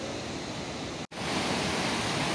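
Two rivers, the Alaknanda and Dhauliganga, rushing together at their confluence at Vishnuprayag in the Himalayas, a loud, steady roar of churning water with one brief dropout midway.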